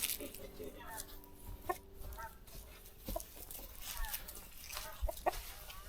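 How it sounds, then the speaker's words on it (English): Rooster and hens on a rural countryside farm clucking and murmuring in a faint, noisy outdoor setting, with scattered short calls and a background voice talking softly. "Mr. Rooster!"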